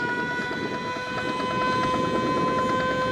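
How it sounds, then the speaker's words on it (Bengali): The Parijat passenger launch, a fast coastal river ferry heading toward the ghat from Barishal to Ilisha, gives off a loud steady engine drone with constant tonal hum and rushing wind-and-water noise, heard close with no talk. "বেশ দ্রুত গতিতেই ঘাটের দিকে অগ্রসর হচ্ছে এমনি পারিজাত লঞ্চ"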